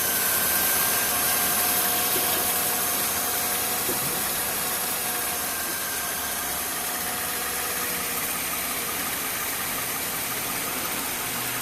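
A Mercedes-Benz S-Class W221 engine idles with a steady, even drone and no knocks or rattles, continuous and close throughout, after pulley repairs.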